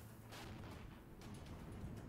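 Artillery barrage in the Regiments war game: dense overlapping distant booms and rumbling impacts rolling continuously, with a few sharper bursts standing out above the low roar.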